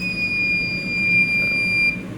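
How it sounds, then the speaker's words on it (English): A steady high-pitched electronic buzz from an active buzzer driven by an Arduino Uno holds for about two seconds, continuous and fairly loud over a low background hum. "the buzzer buzzed for 2 seconds"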